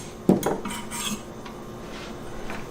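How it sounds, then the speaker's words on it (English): A spoon clinks and scrapes against a pot while stirring onions, a few sharp metallic knocks up front followed by soft shuffling, close and brief with no talk. "So we're gonna go ahead and give it a little stir."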